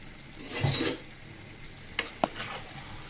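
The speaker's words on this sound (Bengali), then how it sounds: "দিয়ে সুন্দর করে মশলার সাথে আমি মাংসটাকে মিশিয়ে নিচ্ছি। অবশ্যই ভালো করে নাড়তে হবে।" A whole broiler chicken gets stirred into spice masala in a pot for a chicken curry, with a scraping stir swell early on and then a few sharp utensil clinks against the pot.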